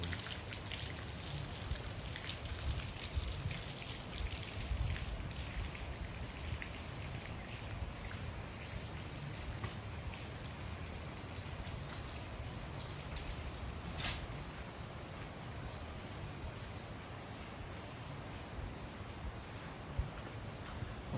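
Steady rain patters continuously on a surface, a dense even hiss with occasional louder drops, no voices.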